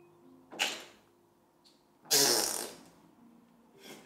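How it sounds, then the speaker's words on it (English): A cartoonish fart sound effect in a children's story about germs, with two broadband blasts, the second louder and longer, followed by a faint trailing puff. "So the toot could be a silent toot, a medium toot, or a loud trumpet toot."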